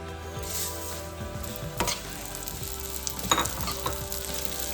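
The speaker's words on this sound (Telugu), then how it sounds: "ఇప్పుడు బౌల్లోకి తీసుకొని ఇదే గీలో సేమియా కూడా ఫ్రై చేసుకున్నాం" Vermicelli fries in ghee in a pan for sweet payasam, a steady close sizzle broken by clinks and scrapes as it is stirred.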